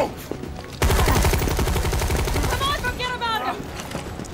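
Rapid bursts of gunfire in Resident Evil 3 Remake ring out loud and dense through the whole stretch, with players chattering in the background.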